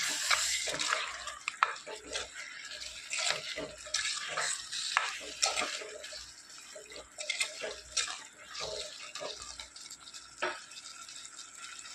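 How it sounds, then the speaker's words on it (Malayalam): Rose apple pickle mixture being stirred in a pan with a spoon, a run of soft wet scraping and sloshing strokes that stays faint and close, with no talk. "ഇതും കൂടെ ചേർത്ത് നന്നായിട്ടൊന്ന് മിക്സ് ചെയ്യുക."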